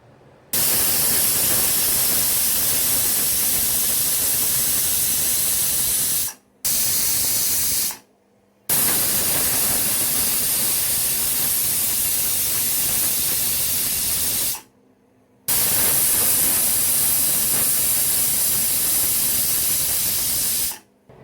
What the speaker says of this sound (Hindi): तो ये देखिए मैंने मैक्सिमम 6 से 7 सीटी होने तक इसे पकाया